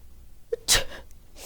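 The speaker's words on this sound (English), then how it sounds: "I'll be happy when this sneezing stops." A single sharp sneeze, close and fairly loud, preceded by a short intake of breath and followed by quiet.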